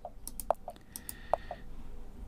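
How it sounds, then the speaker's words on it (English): Key taps from the Windows 10 touch keyboard: a handful of light, crisp clicks in an irregular rhythm, fairly quiet over faint background hiss, with no talking. "now every time that you press a key, you can hear a tap sound"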